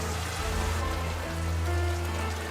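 Light rain falls steadily in a 3D animated children's film, a soft, even patter with faint tonal sounds in the background.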